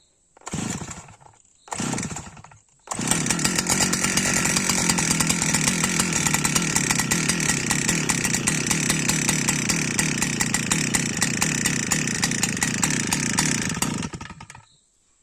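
Two quick pull-cord sputters, then a Stihl petrol grass-cutter engine catches and drones loudly and steadily before cutting off.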